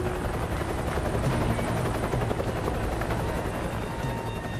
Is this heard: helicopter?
yes